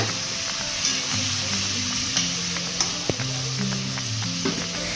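Onion and spice masala sizzles and fries steadily in a pan for egg curry after a little water is added, with occasional stirring scrapes and faint clicks over a continuous crackling hiss.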